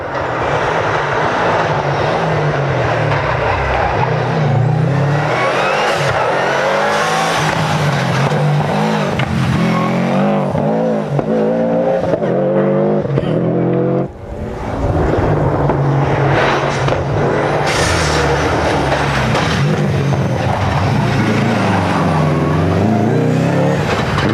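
Rally cars at the 1996 Manx International Rally roar past loudly and continuously, engines revving hard with a brief dip midway as one car passes and another follows.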